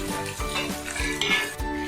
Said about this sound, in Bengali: এই যে মাছ ভাজা হচ্ছে